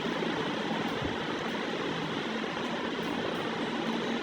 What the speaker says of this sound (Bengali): তো দেখুন হেলিকপ্টার বসে গেল এখন চালু করে দেবে